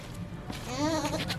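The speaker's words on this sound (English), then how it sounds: "Honestly, these goats are adorable," A goat at a zoo gives a single wavering bleat, close and fairly clear, over a noisy outdoor background.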